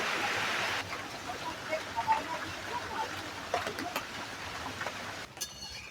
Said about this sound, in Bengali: আবার বৃষ্টি এলো